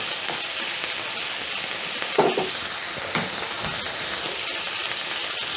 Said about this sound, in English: I'm going to stir in my liver.